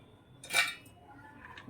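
Cooled rava ladoo mixture in a dish being crushed into crumbs, giving a short, close scraping clatter of utensil against the dish that peaks once and then settles into faint rustling.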